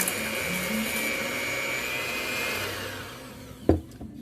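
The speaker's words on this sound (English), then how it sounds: "I use this whisk type blender, which helps a lot. So I'm just gonna put it on pause while I blend it." A whisk-type blender whips coconut cream for dairy-free whipped cream, giving a steady close motor whir with a rattling, scraping texture before a sharp knock near the end as it stops.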